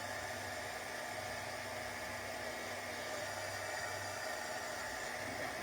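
A heat tool blows steadily to melt embossing powder over pigment or Versamark ink for card crafting, giving a continuous, even whoosh at moderate level with no talk.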